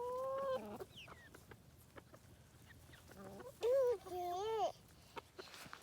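Chickens on a small farm cluck and squawk nearby, a few sharp, rising calls over quiet background chatter from people.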